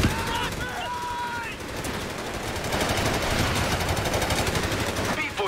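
A heavy machine gun firing in Company of Heroes 3 amid a dense, continuous battlefield roar of gunfire and rumbling, loud and sustained, with faint whistling tones early on.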